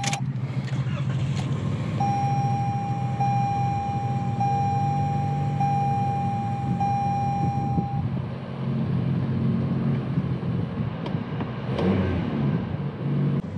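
A 2020 Toyota Corolla SE started with the key: a steady chime sounds for several seconds as the engine turns over and settles into a low, even idle, close and continuous, with no speech.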